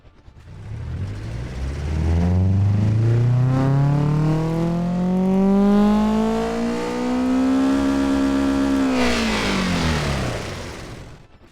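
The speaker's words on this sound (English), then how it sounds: "I like no exhaust sportiness, all intake sportiness." A retro hot hatch's car engine in Automation/BeamNG, run with no exhaust so the intake dominates, revs in one long, steadily rising pull for about nine seconds, then cuts off sharply, loud and close throughout.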